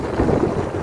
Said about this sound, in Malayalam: സൂപ്പറായിട്ട് നോർമലിൽ തന്നെ വലിയ കാറ്റെല്ലാം കയറുന്നുണ്ട്